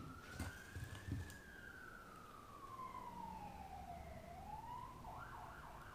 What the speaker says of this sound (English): There's some sirens going crazy out there.